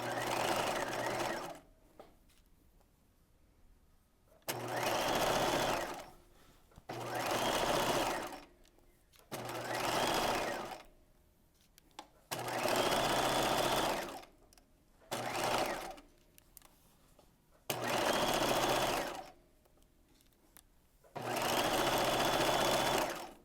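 A sewing machine stitches a curved underarm seam on a top in repeated short bursts of a few seconds each. Quiet pauses separate the bursts as the fabric is guided around the curve.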